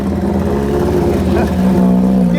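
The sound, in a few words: race cars revving in Les Andelys town centre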